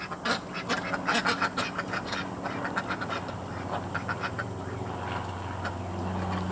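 Several ducks quack in irregular bursts in a Florida food-forest yard, some close and loud, others further off, over a low steady background hum.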